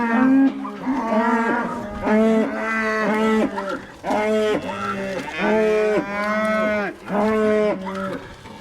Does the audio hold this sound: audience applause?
no